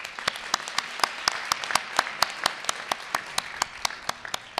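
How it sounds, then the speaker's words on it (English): An audience at a police awards ceremony applauds an honoured employee, a sustained round of clapping with sharp individual claps standing out, fairly near and lively. "Give her a round of applause."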